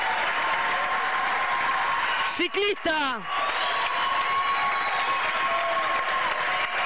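Basketball crowd in an arena gives sustained, loud applause for the visiting team's number 7 as he leaves the game, with a commentator talking over it and a brief sharp squeak partway through.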